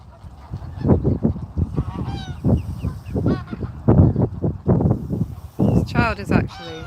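Geese honking repeatedly nearby on a pier, a busy chorus of overlapping honks with a person talking over them outdoors.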